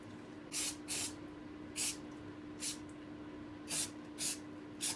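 Short bursts of aerosol oil spray onto new timing chains for a Mk5 Golf R32 VR6 engine, six or seven separate hissing squirts spaced through a quiet workshop with a steady low hum beneath.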